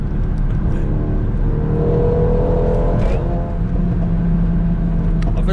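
A car accelerating hard during a street run, the engine note rising and droning continuously up close inside the cabin, with a faint whir and road noise underneath.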